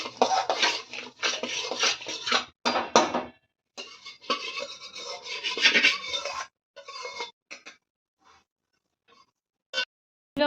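Fried finger millet is scraped from a pan onto a separate plate, producing a series of close, gritty scraping and clinking strokes that thin out into a few isolated taps and then silence.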